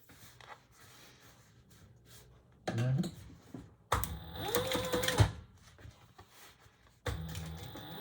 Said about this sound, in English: we're gonna top stitch with the seam that we just created underneath here, and we're gonna top stitch on this piece.